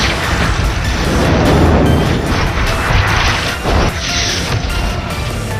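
A strong explosion set off by a missile at a snowy mountain cave entrance in a sci-fi series, a loud rumbling blast that roars on and slowly settles, with no speech.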